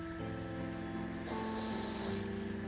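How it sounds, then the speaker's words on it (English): Airbrush giving a light spray of paint to a miniature bust, a close, steady hiss lasting about a second over a constant background hum, with no talking. "So I'll give him a light spray."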